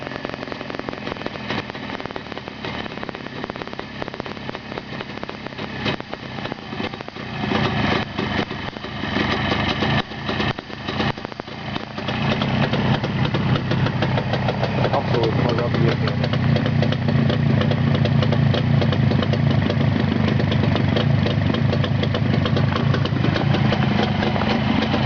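An engine idles at low revs in neutral, rough and uneven at first, then settling into a steadier, louder chugging drone with people talking over it.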